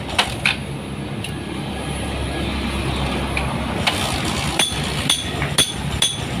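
A Honda Verza motorcycle engine idles smoothly after a cam chain replacement, a steady low hum with light metallic ticks and clicks heard close by.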